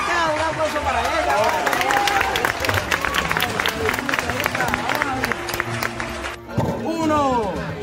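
A small group claps for a woman who has just won groceries in a prize game. The lively clapping runs for about six seconds, with chatter around it, then fades as a voice carries on.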